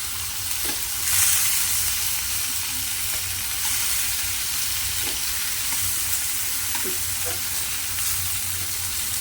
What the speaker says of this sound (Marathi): छान असा खमंग खरपूस हाय फ्लेमवर आता मी भाजते